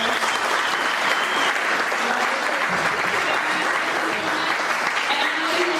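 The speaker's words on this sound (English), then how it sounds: "Let's give our management panel a round of applause." Audience applause for a talent management panel at a music business industry event, a steady dense wash of clapping that holds for several seconds, with faint voices mixed under it.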